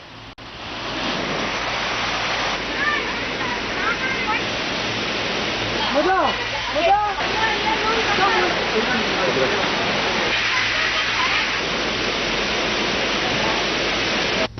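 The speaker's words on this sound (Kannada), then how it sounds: "ದೂರದಿಂದಲೇ ಜಲಪಾತವನ್ನು ವೀಕ್ಷಿಸಲು ಅವಕಾಶ ಕಲ್ಪಿಸಲಾಗಿದೆ." A waterfall, viewed from a distance by tourists barred from entering the water, roars as a steady, loud, dense rush across the whole clip, with brief faint voices partway through.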